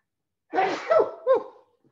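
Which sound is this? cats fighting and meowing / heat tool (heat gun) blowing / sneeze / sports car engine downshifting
sneeze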